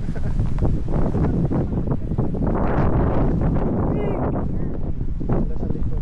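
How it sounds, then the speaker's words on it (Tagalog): Strong, very cold wind in Canada buffets the microphone in loud, continuous rumbling gusts, with no clear voices standing out. "Sobrang lamig. Hangin eh."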